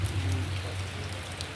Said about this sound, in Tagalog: Kaya ito, ayan ang ulan.